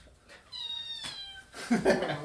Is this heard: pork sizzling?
no